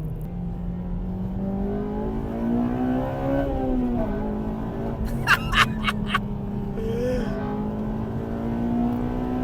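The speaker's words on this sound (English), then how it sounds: "When you get into the upper revs, into the VTEC on this car" A Honda Civic Type R FD2 engine revs high into VTEC, its pitch climbing steadily, with a few sharp bursts midway, loud and continuous throughout.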